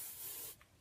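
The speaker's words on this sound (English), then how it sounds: "Try to spray the whole thing" A short, close hiss of hair spray from an aerosol can lasting about half a second, then fading to quiet.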